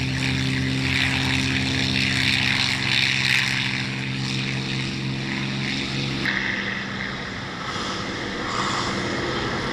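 Propeller-driven warplanes, mostly American, drone overhead with a loud, steady layered engine roar and throbbing harmonics that shift as the aircraft pass, with no voices heard.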